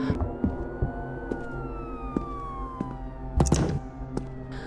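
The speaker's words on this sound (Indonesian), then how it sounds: "1 ruangan yang masih tertutup memiliki suara sirine yang menggema." A distant, echoing siren tone in a closed room in the video game LUTO, slowly gliding downward beneath faint low rumbles and scattered clanks in a reverberant space.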